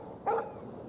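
A dog in the Life Is Strange video game gives a single short, sharp bark, moderately close, over a quiet background.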